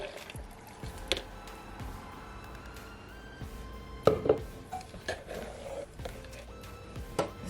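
Blended carrot and ginger juice is poured into a jug in a kitchen, a soft thick splashing and glugging with occasional clinks of the container, quiet and close.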